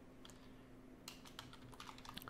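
Rapid keystrokes on a computer keyboard, a quiet run of taps that starts sparse and grows busier, close and fairly soft over a steady low hum.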